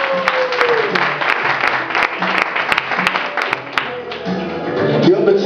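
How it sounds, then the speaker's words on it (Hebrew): Audience applause at a diabolo show rings out as a steady clatter of claps, with a voice talking over it and a few sharper hits standing out. "כל המחיאות כפיים על זה."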